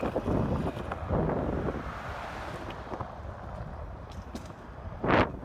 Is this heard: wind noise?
yes